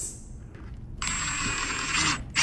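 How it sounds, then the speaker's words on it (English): A power drill bores a hole through a stainless steel chimney, giving a bright, sustained metallic whine for about a second after a quiet start, then stopping abruptly, followed by a short burst. "drilling a couple of holes in this stainless steel chimney"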